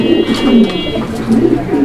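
Fancy pigeons kept for sale coo loudly and close by in a steady, throaty run that lasts the whole short stretch, with no voices.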